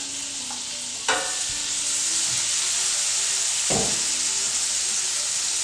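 Butter, chopped garlic and diced fresh tomatoes sizzle steadily in a pan, a constant close frying hiss broken by two sharp scrape-and-stir knocks, with no talking.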